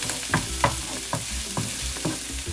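Shallots sizzle in a hot pan for a shrimp and vegetable stir fry, a close hiss broken by several sharp stirring scrapes and spits in a brisk uneven rhythm, no voices.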